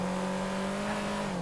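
A car driven in GTA Online hums along with a steady, even engine drone at constant revs, with no shifts or squeals, sounding close and alone.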